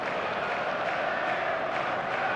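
Stadium crowd in the eFootball video game, a steady broad roar of fans cheering and chanting on match day, continuous and fairly loud throughout with no individual voices standing out.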